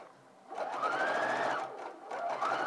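A home sewing machine stitches a slightly curved raglan sleeve seam over pins, its close, steady motor whir starting after a brief quiet moment and running continuously with a slight dip near the end.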